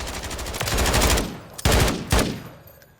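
An MK46 light machine gun fires in Call of Duty Modern Warfare III, a loud, rapid automatic burst followed by two short, punchy bursts, close and booming with echoing tails and no talking.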